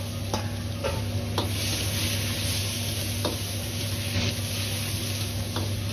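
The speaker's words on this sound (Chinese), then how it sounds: "再放入腌过的莴笋和胡萝卜翻炒" Marinated celtuce and carrot stir-fried in hot lard with ginger and garlic in a wok, a steady close sizzle with periodic scraping strokes of the spatula, no talking.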